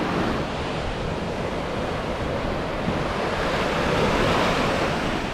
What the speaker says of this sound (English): the wind's blowing 10 mile an hour plus